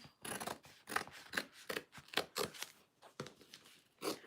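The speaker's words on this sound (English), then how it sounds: "Fabric scissors." Fabric scissors snip repeatedly through fabric during a sewing session cutting pieces and interfacing, giving a quick run of close, crisp blade strokes in a steady rhythm.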